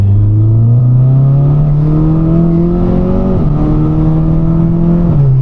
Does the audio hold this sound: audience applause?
no